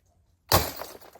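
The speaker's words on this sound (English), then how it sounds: "That was like a glass explosion." A pile of glass bottles shatters in one sudden loud crash while two older people clear up, followed by a scatter of tinkling shards settling.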